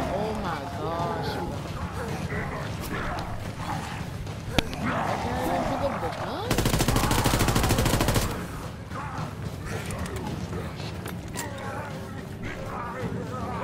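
Gunfire in the World War II shooter Call of Duty: WWII, a dense burst of rapid fire lasting about two seconds, set within a steady din of game sounds and overlapping talk.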